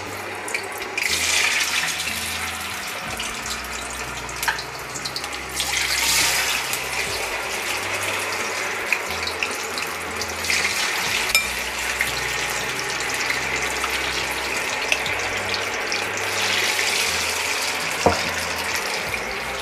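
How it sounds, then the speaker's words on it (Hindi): Soya chunks fry in hot oil in a kadhai over a low flame, giving a steady sizzling hiss that lasts throughout, with a few small clinks and louder swells of bubbling, close by and with no voices. "तो सारे सोया चंक को इसी तरह से कढ़ाई में डाल देंगे।"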